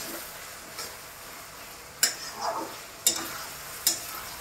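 Soft sizzling of spice paste frying in a pan for dahi chicken, with a few sharp clicks and scrapes of a utensil stirring, fairly quiet and close.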